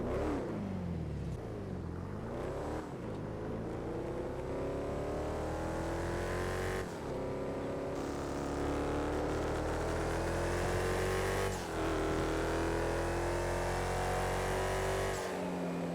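A sports car engine in a video game turns over and settles into a loud, steady rumbling idle with occasional revs, close and continuous with no talking.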